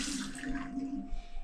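Water backing up and gurgling in a clogged bathtub drain, a steady watery wash with a low hum running throughout, close and moderately quiet with no talking.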